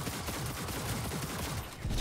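Dense, continuous gunfire in the video game Cyberpunk 2077 forms a loud, steady barrage of overlapping shots with no clear gaps.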